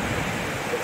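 Steamboat Geyser erupting in Yellowstone National Park, a steady broadband rushing roar like heavy surf or a waterfall, heard from a distance and continuing without break.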